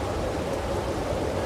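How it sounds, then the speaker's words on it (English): Rain pours steadily in Farming Simulator 22, a dense, even hiss of moderate loudness that continues without a break or any speech. "I was just waiting inside for the rain to stop. It hasn't quite yet."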